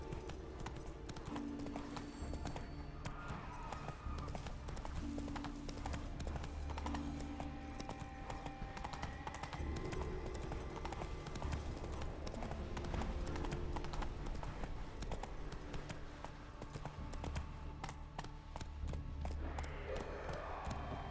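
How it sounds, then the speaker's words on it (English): A horse gallops in The Witcher 3 video game, with rapid, steady clip-clop hoofbeats throughout, quite faint overall and layered with game ambience, plus a brief whinny-like sound. "Run, Roach"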